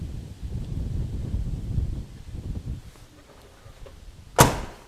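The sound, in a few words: 1974 Mercury car door closing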